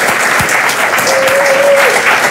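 Loud, close audience applause filling a short burst, dense clapping from a crowd at a live talk, with a brief whistle-like tone cutting through the middle.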